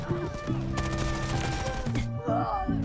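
A QCQ-171 submachine gun firing in rapid, continuous bursts in the game Delta Force, with tight gunfire over tonal in-game sound effects, close and loud.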